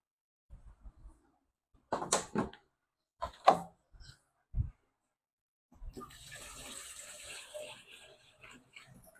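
A few scattered knocks and clunks, then a steady rush of water pouring for several seconds, priming a water pump.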